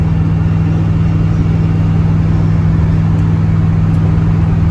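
A Ford Thunderbird engine, fitted with a mechanical oil pressure gauge, runs close by with a loud, steady low drone and no clear change in pitch.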